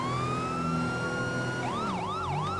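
A police car siren in GTA 5 with a police mod starts as a long, rising wail, then switches to a fast yelp. The loud, continuous siren runs over a low engine rumble.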